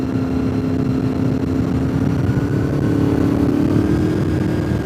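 Motorcycle riding the curves at Deals Gap, its engine a loud, steady close drone with a constant low hum and slight wind rush, holding an even pitch throughout with no voices.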